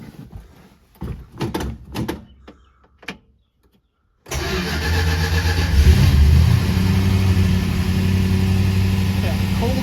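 Car engine with a four-barrel carburetor cranks and fires into a loud, steady running idle with a brief rev, preceded by a few clunks and a short near-silence; no talk over it.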